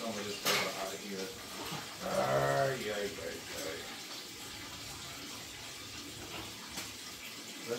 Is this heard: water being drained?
yes